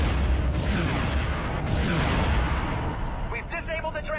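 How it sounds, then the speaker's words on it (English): Ion guns fire from a starfighter in the video game Star Wars Rebel Strike, a dense roaring barrage of blasts and rumbling booms that fills the whole moment, with a brief electronic warble near the end. "I need to use my ion guns."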